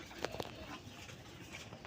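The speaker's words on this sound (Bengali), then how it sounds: "এই যে আমাদের দেশীয় রাসগোল্লা কবুতর" Rasgolla pigeons, a local domestic breed, give a few faint, soft coos and flutters close by in a quiet setting, with brief rustling in between.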